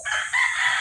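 Chickens on a poultry farm give a brief, loud burst of close calls, a rooster-like crow with clucking layered in, heard alone.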